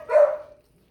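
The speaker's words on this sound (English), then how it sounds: "Sorry for the barking in the background." A single short dog bark sounds in the background of a home kitchen where chicken kabobs are being prepared, loud for a moment and then fading into quiet with no talking.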